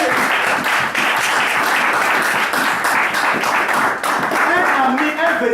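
A church congregation claps and applauds steadily and densely throughout, with voices mixed in under the clapping.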